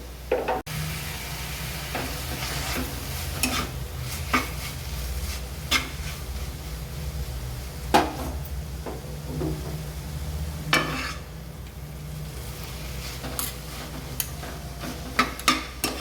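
Prawn noodles with lemon juice and noodle water being stirred in a pan, a soft low sizzle under repeated utensil scrapes and taps against the pan, close and fairly quiet, without speech.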